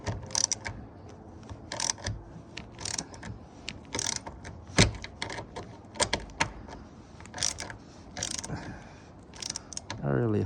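Screws are loosened by hand during a repair, giving irregular metallic clicks, ratcheting turns and small clattering taps spread across the clip.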